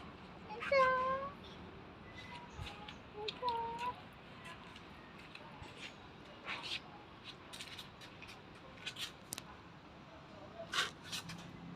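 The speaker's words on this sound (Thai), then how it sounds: "น้องแมวจ๋า" A kitten meows several times, with clear drawn-out cries near the start and again at the end, close and distinct, while a person speaks softly in between.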